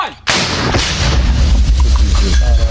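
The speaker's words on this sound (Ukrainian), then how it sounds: "Вони швидко наводяться за координатами та здійснюють постріл." A single heavy firing blast from a recoilless anti-tank grenade launcher, a sharp loud boom followed by a long rumbling roar and echo with no talking.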